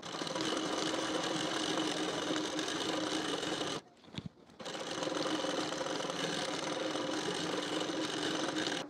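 A sewing machine stitches a blouse sleeve onto the shoulder, running as a fast, steady, close-up whir that stops briefly midway with a soft click or two and then resumes at the same pace.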